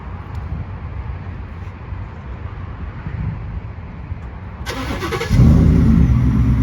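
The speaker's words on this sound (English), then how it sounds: "let me show you how the remote start works" A Ford F150 pickup starts up via an aftermarket remote start: after a steady outdoor rumble and wind, a brief click and crank near 4.7 seconds give way to a loud, steady idle close by.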